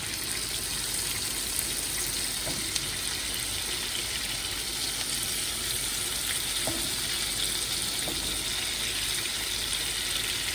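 Cajun-seasoned ribeye steaks sear in a hot pan indoors, giving a steady, even sizzle across the whole stretch with a few faint clinks now and then and no voices.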